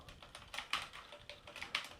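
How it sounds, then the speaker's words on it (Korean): Typing on a computer keyboard while entering a float variable in C code, a steady run of light, close key clicks with a few louder strokes, no talking. "이렇게 타이핑을 하고요"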